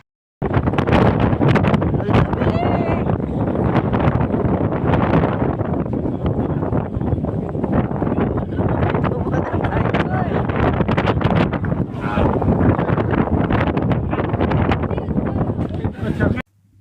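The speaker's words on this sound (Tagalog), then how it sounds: "rinig niyo ba yung malakas na hangin?" Strong wind buffets a gondola cabin at Whakapapa, a loud continuous roar of gusts and microphone rumble lasting throughout, with a voice speaking beneath it.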